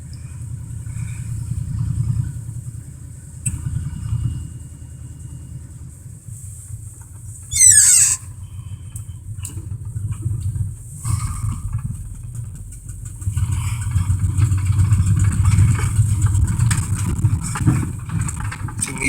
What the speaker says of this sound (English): Gotta let it idle for just a sec before we can put it in gear.